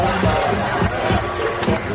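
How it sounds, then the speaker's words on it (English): A crowd at the Bug Jam car show in 2003 cheers and whoops loudly, a short dense burst of voices close by. "Big round of applause!"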